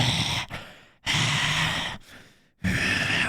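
A voice imitates someone's loud, heavy breathing, producing three long, harsh, rasping breaths close to the microphone, each cut off by a brief pause.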